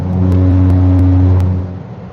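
A car on the road swings around another car parked on the roadside, a loud, close engine drone with a steady low hum that fades out near the end.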